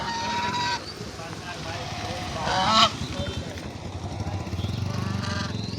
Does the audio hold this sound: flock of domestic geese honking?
yes